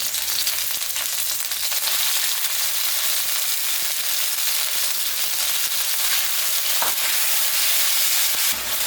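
Marinated beef pieces for pepper steak fry in a hot pot with a loud, steady, broadband sizzle and hiss that holds close and continuous throughout, with faint stirring noises underneath.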